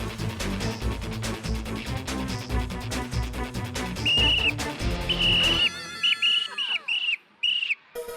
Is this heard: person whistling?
yes